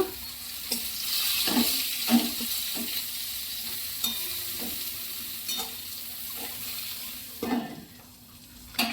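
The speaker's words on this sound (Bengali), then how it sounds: "এবার বেগুনগুলো সব দিয়ে দিলাম একটু তেলের মধ্যে আমি নাড়িয়ে নেব" Tomato and eggplant stirred and fried in oil, a soft continuous sizzle broken by repeated spoon scrapes against the pan, close and moderately quiet, with no talking.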